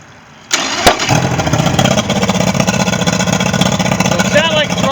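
A Yamaha 150 HP outboard engine on a Skeeter boat, with an intake problem, catches suddenly after a moment of quiet, then runs loud and steady with a rough, throbbing rumble.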